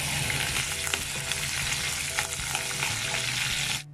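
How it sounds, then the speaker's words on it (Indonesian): Chili sambal filling for bakso mercon fries in a pan with a steady, close, loud sizzle and crackle, with faint stirring scrapes throughout and no talking. "ini buat sambalnya aku goreng ya ininya"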